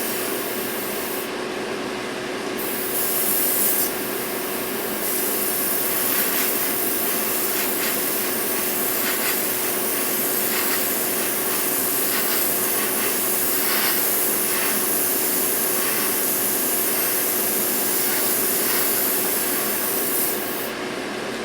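An airbrush sprays a coat of thick Stynylrez primer onto a model, a steady, close, continuous hiss running unbroken for around twenty seconds with slight variations in intensity and no talking.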